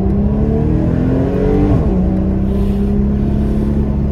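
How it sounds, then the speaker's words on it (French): Porsche Cayman 981 with a naturally aspirated 325 hp flat-six, driven in sport mode, its engine note rising and then easing off in a continuous loud rev, recorded from inside the car with road rumble beneath. "c'est un réel plaisir d'entendre ce Flat 6 chanter encore une fois"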